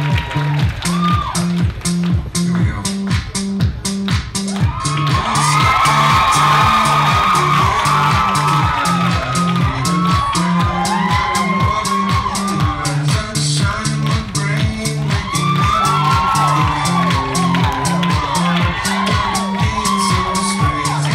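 A University of Alabama fashion show audience cheers and whoops continuously, loud and close, with shouts rising over a steady pulsing beat throughout.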